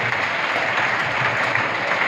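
A school audience of children claps together in a steady, dense burst of applause, loud and close, with no talk over it.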